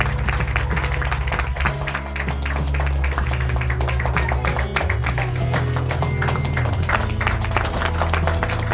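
Audience applauding the chief guest at a church foundation stone laying ceremony in Pasighat, continuous dense clapping over a loud low droning hum, steady throughout and fairly close.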